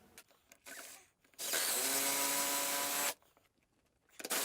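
A power drill drives bolts into a wall to mount a TV bracket, giving one loud, steady whir of a little under two seconds, set between quieter handling noises and a brief restart at the end.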